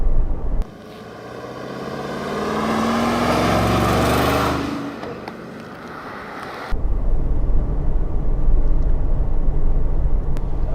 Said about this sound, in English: Especially with this V8 engine, it's very fast off the ground.